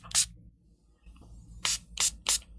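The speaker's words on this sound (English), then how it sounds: "And so we pulled this decant out, and we're going to spray it as well." Perfume decant sprayed onto a fresh tester strip: one quick hiss near the start, then after a pause three sharp atomizer bursts in fairly quick succession, close and clear against a quiet room.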